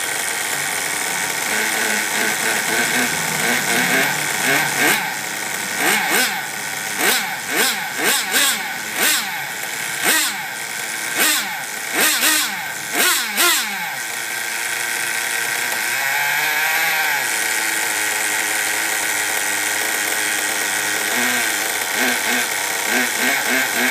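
A tuned motorcycle on a stand in a shop revs in repeated sharp throttle blips that rise and fall, with a steadier high engine drone before and after, loud and close.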